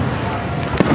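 Fireworks boom in the distance during a first fireworks outing, a rumbling burst with one sharper crack near the end, heard under nearby voices.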